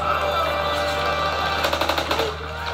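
Automatic gunfire in the Call of Duty WWII video game, a short rapid rattle of shots near the end over a steady background hum.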